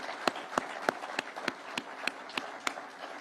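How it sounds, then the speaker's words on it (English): An audience applauds a chairman and his commissioners with sharp, evenly spaced claps about three per second, faint and somewhat distant over a low murmur. "please let us clap for those great people"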